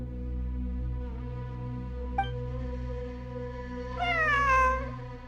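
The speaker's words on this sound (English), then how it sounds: "It really is a cat." A cat meows in the video game Genshin Impact, one drawn-out rising-then-falling meow near the end over a steady humming game soundtrack.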